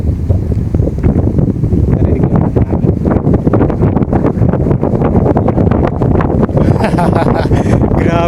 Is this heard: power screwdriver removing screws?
no